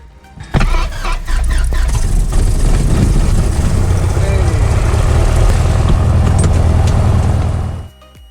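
A Piper PA28 light aircraft's propeller engine starts with a brief whine and sputter, then catches into a loud, steady, close-up roar that holds for several seconds before cutting off sharply.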